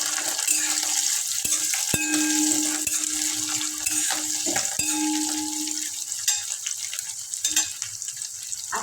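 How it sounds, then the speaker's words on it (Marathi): Curry leaves crackle and sizzle in hot oil in a frying pan for a soya bean biryani, a steady loud frying hiss broken by a few metal stirring knocks and scrapes. "यात टाकायचा आहे कढीपत्ता. एकदा हलवून घ्यायचं आहे."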